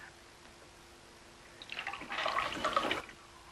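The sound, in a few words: water running from a tap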